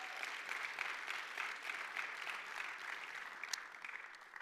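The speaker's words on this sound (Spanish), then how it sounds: "Démosle palmas al Señor." Church congregation clapping during a service, a fairly faint, continuous patter of many hands heard at a distance, steady throughout with no voices over it.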